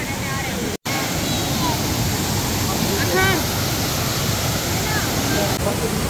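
Waterfall in the hills near Nainital, a loud, steady rush of falling water filling the scene with a brief dropout early on, and faint voices and birdlike chirps scattered over it.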